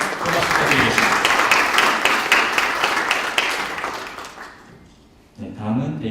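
A crowd claps steadily for about four seconds at an appointment ceremony, the applause thinning out before a voice begins speaking.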